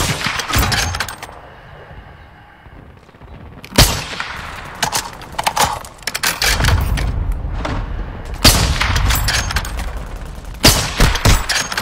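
Gunfire in a combat firefight, with loud, sharp reports and clustered bursts of shots cracking out repeatedly, some close and heavy, over a continuous rumbling background.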